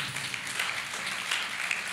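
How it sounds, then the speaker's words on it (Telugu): A church congregation claps together in praise during a worship service, a steady dense patter of many hands that holds at an even level for the whole stretch with no voices standing out. "అందరూ చప్పట్లు కొట్టండి దేవునికి"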